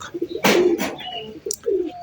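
Pigeons coo in short, soft bursts, mixed with a few brief rustles and flutters close by.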